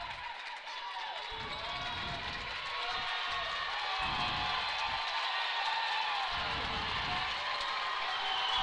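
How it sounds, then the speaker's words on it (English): Crowd at a girls high school basketball game, Cherokee at Oklahoma Bible, cheering in steady waves with a broad roar swelling and fading under the gym's constant murmur. "Crowd's getting fired up with the great defense the Lady Trojans are playing."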